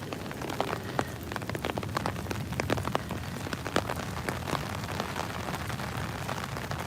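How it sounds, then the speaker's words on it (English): Heavy rain pours down hard at an outdoor war memorial, a dense, continuous patter with sharp individual drops spattering nearby, steady and loud throughout without speech. "It's pouring."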